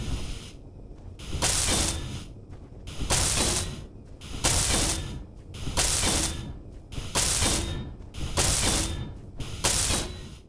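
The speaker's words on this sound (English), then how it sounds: "Let's weld a couple of blocks up just so I can pick up some more stuff." The welding tool in the video game Space Engineers, used to weld blocks, sounds in repeated bursts of harsh, hissing, crackling noise, about seven pulses with brief lulls between them, close and fairly loud, with no talking.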